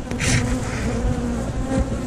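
Honey bees buzzing close by during a hive inspection, a dense, steady drone that holds without a break from start to finish.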